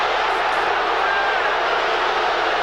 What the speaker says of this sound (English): You can hear the Superdome crowd's reaction to that.